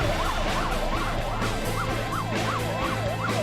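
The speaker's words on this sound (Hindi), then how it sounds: "व्यस्त ट्रैफिक के बीच सायरन बजाते हुए ये एम्बुलेंस दन दनाते हुए आपके घर पहुंच जाएंगे" An ambulance siren wails in a repeating rising-and-falling cycle, loud and close, over the steady rumble of busy traffic with no talk.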